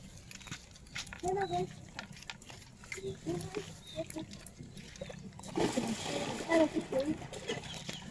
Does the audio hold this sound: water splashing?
yes